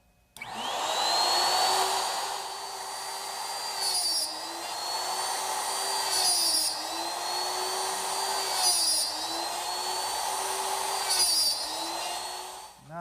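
A router with a dovetail jig cuts half-inch blind dovetails in pine in a woodworking shop, a loud sustained whine that spins up at the start and dips and rises rhythmically with each of about five passes.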